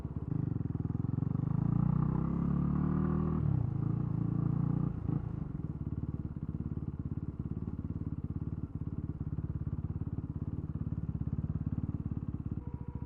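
A Honda Grom motorcycle fitted with a Black Widow exhaust rides through city traffic, its engine rumbling loudly and steadily close by, louder and revving for the first five seconds before settling into a lower, continuous burble.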